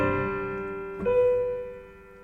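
A held chord shifts to a new one as a suspended C steps down to resolve, the second chord ringing out and slowly fading.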